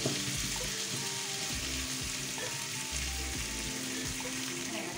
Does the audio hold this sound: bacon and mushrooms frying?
yes